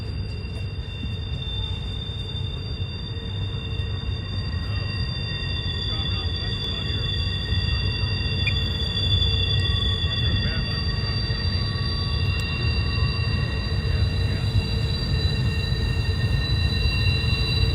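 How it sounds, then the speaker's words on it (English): A long freight train rolls around Horseshoe Curve in Pennsylvania, a continuous steady rumble of wheels with faint high squeal tones, heard from a distance and slowly building in loudness. "Pretty long train."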